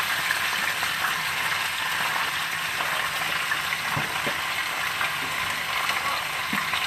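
Potatoes frying in a pan give a steady, dense sizzle and crackle throughout, with a few faint clinks and no talking.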